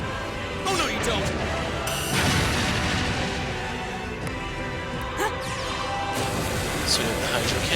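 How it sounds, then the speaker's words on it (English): The Hydro Cannon attack in the Trails of Cold Steel game lands as a dense, loud barrage of booming crashes and impacts, sustained throughout with a few sharper hits. "So we have the Hydro Cannon come out."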